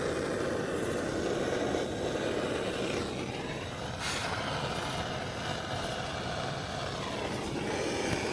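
A torch heats the burner of a Bryan steam tractor, with a continuous, loud broadband roar that holds steady from start to end without breaks.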